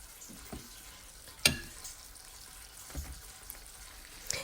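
Chicken thighs and legs sizzling in a pan of parmesan cream sauce for Marry Me chicken, with a soft, steady fry broken by a sharp clatter of placing pieces and a few stirring sounds.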